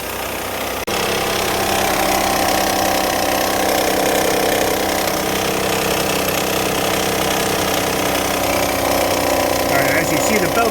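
Steady, loud mechanical clatter from a running car engine with its drive belt removed, a continuous knocking rattle over the idle that keeps going throughout; a voice may talk faintly beneath it.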